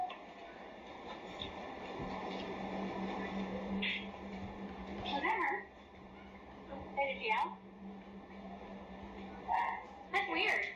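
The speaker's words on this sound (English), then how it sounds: "A dog is heard crying somewhere in this clinic" A dog whimpers and yelps in short, high bursts inside a clinic, over a steady background hum, with brief pauses between the cries.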